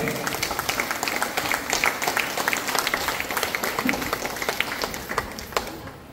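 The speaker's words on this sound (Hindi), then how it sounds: "जोरदार ताली से स्वागत करें। जोरदार ताली से।" Many people clap loudly to welcome guests at an office opening ceremony in Ramghar, a dense sustained round of applause with sharp individual claps standing out, tapering off at the end.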